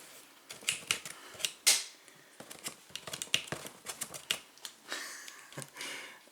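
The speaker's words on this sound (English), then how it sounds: "Bear with me, it's just not easy to open the box." Scissors snip and slice through a cardboard box for an elevator call button, a close series of sharp irregular cuts and crinkles in a quiet room.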